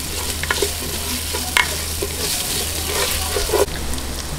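Onions sauté in a hot pan for Ilonggo chicken binakol, a continuous loud sizzle with occasional scraping stirs, close up and without talk.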